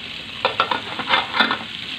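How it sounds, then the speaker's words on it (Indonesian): Spice paste being stirred and sautéed in a pan for a beef-trimming vegetable soup, with a steady sizzle broken by several scraping stirs of a utensil, close and fairly loud, no talking. "saya lagi tumis dulu ya bumbu yang tadi untuk sop"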